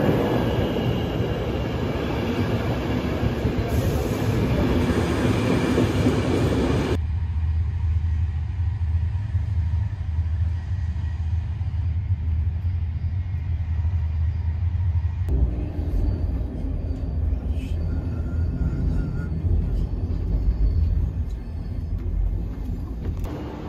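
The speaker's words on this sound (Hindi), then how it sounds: "ये आ गई भाई अपनी ट्रेन 6:03 पे आ गई। अबे यार ये तो लोकल है।" A local train pulls in at Frankfurt station, a steady loud rumble of wheels and cars rolling along the platform for over twenty seconds, with a high hiss early on and shifts in tone as it slows, close by and without talk.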